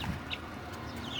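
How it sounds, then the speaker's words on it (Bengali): Brahma chicken chicks clucking softly during feeding, with a few short, faint calls scattered over a quiet barnyard background and no talking. "ব্রাহ্মা মুরগির বাচ্চা, এগুলোকে খাবার দিয়ে"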